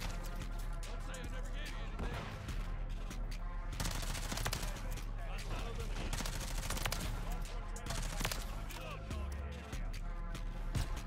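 Rapid full-auto gunfire from a Lachmann Shroud in Call of Duty MW3 crackles in dense bursts over a busy game soundscape, steady and loud throughout.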